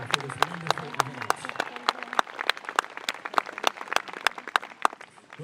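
Scattered audience applause at a marching band event at the Pinnacle in Grove City, with distinct, uneven claps close by, building and thinning over several seconds.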